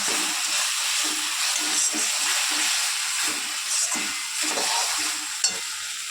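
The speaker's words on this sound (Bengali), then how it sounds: "মশলাটা মোটামুটি কষানো হয়ে গেছে।" Spice paste frying and being stirred in a pan, with a steady sizzle and hiss under repeated scraping strokes of a spoon, close and continuous.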